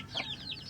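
Chickens clucking inside a hollow-block coop on a small farm, a few soft, quick clucks heard faintly and close by.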